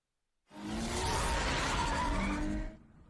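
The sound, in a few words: Batmobile car driving, from video game Batman: The Telltale Series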